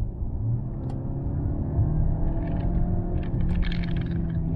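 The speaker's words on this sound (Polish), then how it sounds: "gaz w podłogę." A French hybrid limousine in sport mode accelerating hard with the pedal floored from about 40 km/h, giving a steady, loud low engine and road rumble that builds slightly with faint higher whine, no talk.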